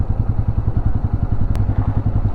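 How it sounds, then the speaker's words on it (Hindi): A motorcycle rolls down a steep night road near Nainital with its engine thumping at a fast, steady low putter, close and loud throughout. "मेरा बाइक अपने आप ही नीचे जा रहा है। रास्ते में बहुत ही ढलान है"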